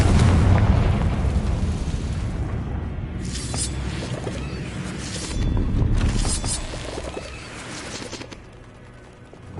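A Confringo blasting spell in Hogwarts Legacy bursts into a rumbling explosion, with booming low-end roars and crackling debris swelling and fading over several seconds; no talking.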